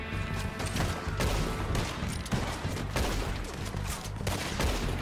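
Bursts of gunfire in Red Dead Redemption 2 crack out repeatedly and unevenly over a constant rumbling game backdrop, with no voices.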